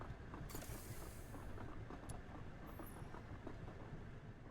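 A train ride in the video game Duet Night Abyss produces a continuous rumble of rolling railway wheels with rhythmic clacks and a few brief high squeals. The sound is steady, enclosed and fairly quiet, with no talk.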